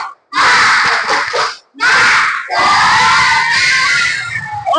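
A class of children claps and shouts together in a rhythmic Indonesian clapping chant, loud bursts separated by short pauses, close by in a room.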